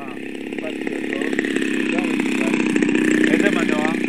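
A Piper Cub model airplane fitted with a DLE 55 gas engine runs steadily and loudly throughout, a continuous buzzing drone with people talking over it at an airfield in Ein Yahav.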